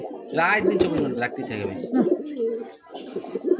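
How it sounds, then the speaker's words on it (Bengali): A gola pigeon coos inside a loft, its soft repeated calls close by and mixed with someone talking over them. "আমার লফটের ভিতরে এই কবুতরটা আর একটা কবুতর আছে খুবই ডাকে"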